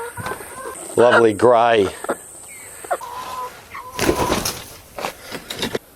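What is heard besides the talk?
Orpington chickens clucking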